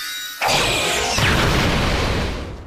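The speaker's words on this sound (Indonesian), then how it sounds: "menciptakan sebuah ledakan ketika kedua sihir tersebut saling berbenturan" A sudden loud blast from two magic spells colliding erupts after a moment of near silence, then rolls on as a dense roaring rumble that slowly fades.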